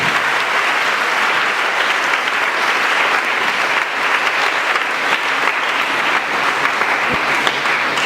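A church congregation claps loudly and continuously throughout, dense sustained applause filling the room with no break.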